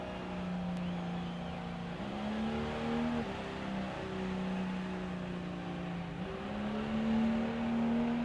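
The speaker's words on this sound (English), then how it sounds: "Just steps the revs up just that little bit more, Richie." A Ford Escort panel van with a 4.1 six-cylinder engine holds a steady, droning rev during a burnout, the pitch stepping up a little at intervals, heard at moderate distance with no talk.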